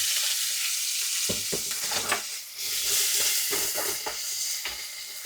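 Onions and green chillies frying in a pan with a loud hissing sizzle, punctuated by repeated scraping taps of a spatula stirring at uneven intervals, close up, with no one talking.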